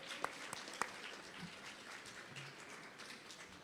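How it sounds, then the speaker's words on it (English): An audience at a delegation breakfast meeting applauds in a steady, diffuse patter of many hands at a moderate distance, with a few sharper claps standing out near the start. "Give Chicago a round of applause."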